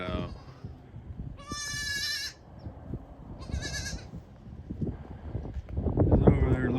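Kiko goats bleating during kidding season, including newborn twins and triplets. Loud, wavering bleats come in separate bursts, with wind rumble and a person talking at times between the calls.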